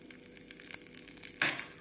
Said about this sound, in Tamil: இதனுடன் கறிவேப்பிலை, காய்ந்த மிளகாய் போட வேண்டும். இவை நன்றாக பொரியவும் நாம் சட்னியில் ஊற்றிவிடலாம்.